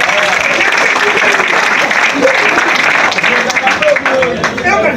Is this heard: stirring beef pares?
no